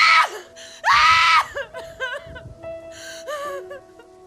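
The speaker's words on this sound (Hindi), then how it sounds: "निक्की जोर जोर से चीखने लगी।" A woman screams loudly in agony as she burns alive, with repeated piercing shrieks broken by gasps and whimpers.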